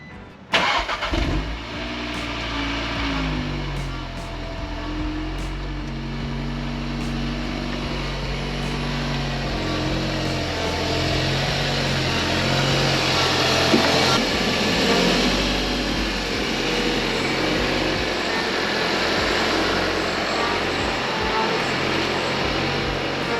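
An Audi S3 engine cranks and catches, then settles into a steady running hum that builds slightly as the car pulls away for a road test, with no voices.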